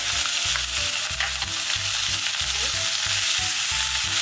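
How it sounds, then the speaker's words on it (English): Chopped onion, green beans and boiled carrot fry in a pan, a dense continuous sizzle heard up close with a faint repeating low thump beneath, no talking. "Fry this."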